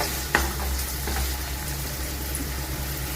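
Finely chopped green chillies hitting a hot pan of oil for a Gujarati cashew-gathiya curry, a close sharp sizzle with a brief clatter at the start that settles into steady frying.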